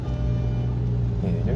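A car's engine hums steadily under a low, loud drone inside the cabin during a city driving lesson, with a slight rise toward the end as it picks up speed; a voice is faintly present.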